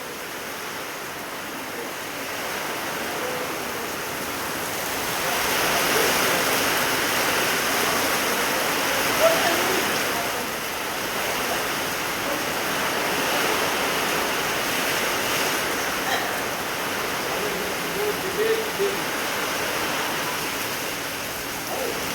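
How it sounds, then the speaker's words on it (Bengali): A storm with rain beating on a tin roof gives a continuous, loud hiss and roar. It swells around the middle and carries faint scattered taps through its length. "বৃষ্টি এবং ঝড় শুরু হয়ে গেছে।"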